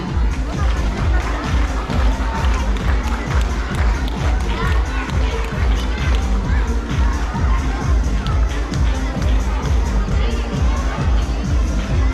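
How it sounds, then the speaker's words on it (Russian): Audience at a children's talent event in Yakutsk applauds and cheers a school dance group after its Chinese dance, a loud, steady crowd roar with rhythmic thumping and children's shouts throughout. "Аплодисменты."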